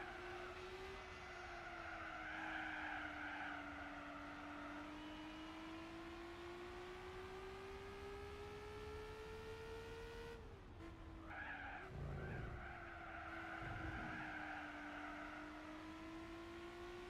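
A race car in Gran Turismo 4 drones with a sustained engine note that slowly sweeps down and back up, followed by a burst of tire skidding and squealing before the engine tone resumes, loud and continuous with no voices.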